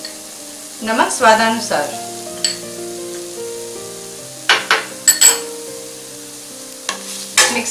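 Veg fried rice with salt being stirred in a pan, bursts of sizzling and scraping in a few clusters while a voice speaks over a quiet background tone.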